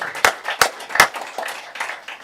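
A few scattered claps ring out at a city council meeting, three sharp, spaced slaps standing out over a faint murmur of a small room, thin and brief rather than a full ovation.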